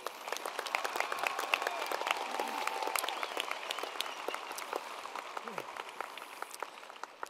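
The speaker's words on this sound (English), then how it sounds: "Will you give them one more round of applause," Sustained audience applause at a 2022 Rider High School graduation ceremony, dense steady clapping from a large crowd in a hall, continuous for several seconds with a faint murmur of voices beneath.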